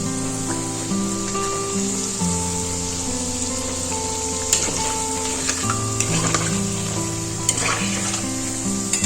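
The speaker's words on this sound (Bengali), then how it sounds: "চিড়ের ভাজা পিঠেগুলো দেখুন কত সুন্দর লাল লাল করে ভাজা হচ্ছে" Chira pitha made with sweet potato and mung dal fries in hot oil with a steady, loud sizzle and scattered crackles, under a sustained melodic music track.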